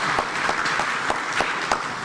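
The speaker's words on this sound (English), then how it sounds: "another round of applause for the Right Honorable Speaker" Applause at a parliamentary conference for the Speaker, with continuous claps from a large audience and a few louder strikes standing out at a regular pace.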